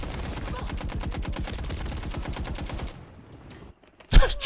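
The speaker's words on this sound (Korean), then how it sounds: "총소리가 계속 나" Automatic gunfire in Call of Duty: Modern Warfare 3, a long rapid rattling burst that fades out, followed by a single loud blast near the end.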